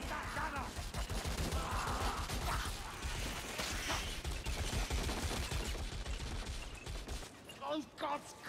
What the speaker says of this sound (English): Taking fire from the rattling gun!